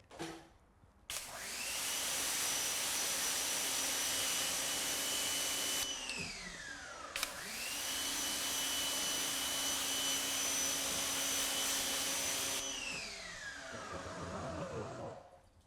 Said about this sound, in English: I'm going to just put some pressure on the pressure washer, turn it on so you can see what that looks like.